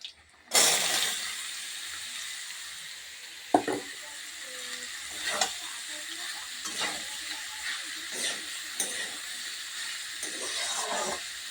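Chopped bottle gourd hits hot oil tempered with chili and erupts into a sudden loud sizzle, which settles into a steady hiss broken by the clacks of a spatula stirring.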